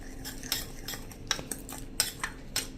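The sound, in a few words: spoon mixing sugar and red chili powder in a bowl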